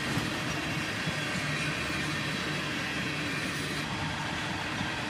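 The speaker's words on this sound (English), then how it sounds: "And soon enough, the end of the train goes by." Northbound tanker freight train rolling past, a steady loud rumble of wheels and cars with constant rail noise throughout, near and unbroken, no voices.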